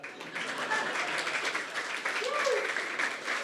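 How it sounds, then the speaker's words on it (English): Audience applause at the Bitcoin 2025 conference in Las Vegas: a sustained, moderately loud patter of many clapping hands that fills the room, with a voice speaking over it. "Applause now."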